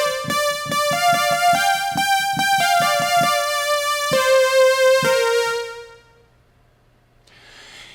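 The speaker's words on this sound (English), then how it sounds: "This is called JP8 bright lead, and it sounds like this." A bright, thin JP8 lead synth plays a clear melodic line of staccato notes, then holds a sustained tone that fades out, loud and alone.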